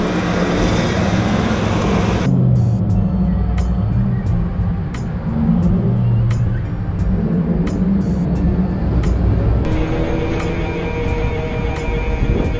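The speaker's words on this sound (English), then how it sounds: "That terrible noise comes from the fact that we just chewed up the only belt that was running the water pump" A lowered crew-cab Squarebody dually truck runs with its only water pump belt chewed up, giving a loud continuous rough engine drone with rapid ticking clicks throughout, with coolant leaking.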